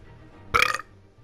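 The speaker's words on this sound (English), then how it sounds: "I just burped." A single short burp erupts loudly out of near silence, about a quarter second long, with faint room noise around it and no talking.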